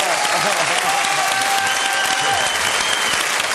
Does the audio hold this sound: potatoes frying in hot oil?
no